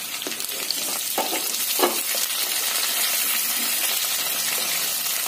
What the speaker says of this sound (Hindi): आलू को हम धीमी आंच में थोड़ी देर प्याज और तेल में फ्राई करेंगे